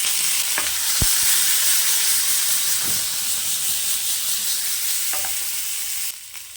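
Coconut, poppy seeds and tomato sautéing in oil in a pan for potato gravy, a loud steady sizzle with a few spatula knocks, fading slightly toward the end, no voices.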